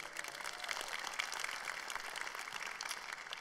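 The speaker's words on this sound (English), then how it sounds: "Can we give them a round of applause?" Steady applause from a fairly distant crowd, a soft continuous patter of many hands clapping without voices.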